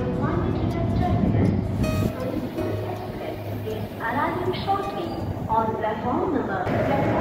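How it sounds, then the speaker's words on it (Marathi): The 11414 Nizamabad Express stands at Kurduwadi junction, its loud rumbling and clanking filling the platform while a voice talks over it. "गाडी संख्या 11414 निजामाबाद एक्सप्रेस कुरुडवाडी रेल्वे स्टेशनवरती 6:34 पोहोचलेली आहे."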